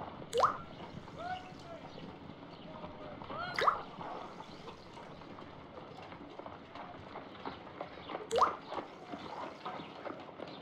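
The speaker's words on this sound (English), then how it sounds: "I must take a pipette and place several drops of hydrogen peroxide." Drops of hydrogen peroxide fall from a pipette in a Sherlock Holmes video game, three separate bright plinks spaced several seconds apart over a quiet ambient game background.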